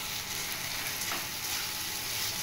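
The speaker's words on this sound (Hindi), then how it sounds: "2 मिनट तक इसको अच्छे से फ्राई करना है।" Turmeric and coriander powder sizzling in a hot kadai while cooking kadai paneer, a steady close hiss of frying with no talk over it.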